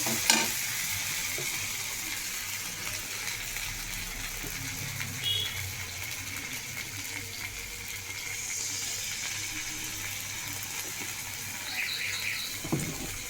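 Fish curry with taro being stirred in a pan, a soft continuous sizzle with occasional scrapes and clicks of the utensil, close but fairly quiet, no voices.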